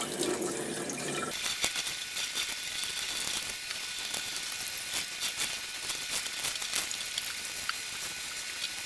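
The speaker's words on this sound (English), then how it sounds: "so let's go ahead and rinse this out" Running tap water splashes steadily over an ice-dyed shirt being rinsed in a sink, a continuous close hiss with small irregular spatters and drips and no talking.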